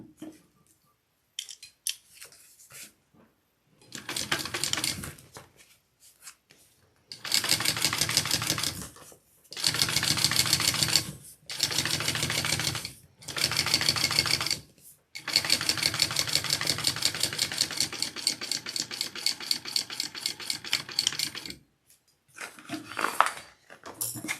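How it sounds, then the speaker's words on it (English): Sewing machine top stitching along a bag lining, running in several loud, rapid stitching bursts of a few seconds each, separated by short pauses, with brief faint clicks in between. "And then we want to top stitch along our lining here."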